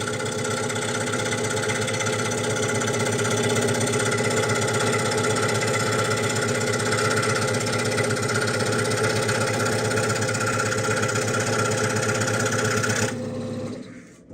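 A scroll saw cuts smoothly through wood, giving a steady, loud, rapid reciprocating buzz with a constant hum, running evenly for about thirteen seconds before it stops abruptly.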